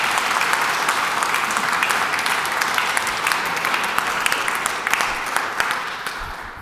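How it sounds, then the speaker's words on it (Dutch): An audience at a science talk about how the brain keeps time applauds warmly, a loud, dense and sustained burst of clapping with some sharper individual claps standing out before it starts to fade. "Mag ik een applaus?"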